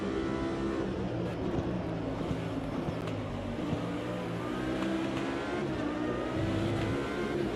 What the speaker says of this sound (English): I do like how this car sounds